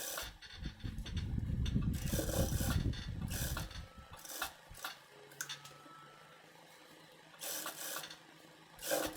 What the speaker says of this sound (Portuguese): E agora eu vou lá para a máquina reta passar uma costura aqui no decote das costas de meio calcador